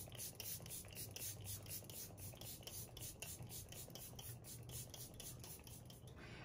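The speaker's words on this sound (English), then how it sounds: "I'm going to use the Cover FX one. This one definitely has some kick, so you'll want to do it from a bit farther away" Cover FX setting spray misted in a long, steady hiss with a faint rhythmic pulsing, quiet and close, with no voices.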